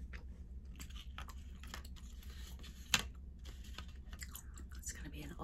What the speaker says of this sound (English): Those of you that do not like to hear a cracking gum noise, it's gonna be annoying.